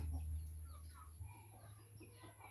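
Faint clucking of chickens in the background over a low steady hum, soft and scattered.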